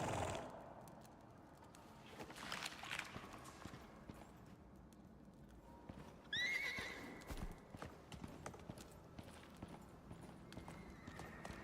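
Horse hooves clip-clop steadily in the survival game Icarus, with a whinny rising in the middle and a quieter neigh later, all moderately distant over a soft ambient background.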